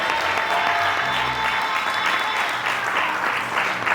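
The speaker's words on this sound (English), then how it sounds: "Can we clap our hands for Jesus?" Sustained applause from a congregation at a wedding ceremony, many hands clapping steadily and loudly for the full stretch with no pauses.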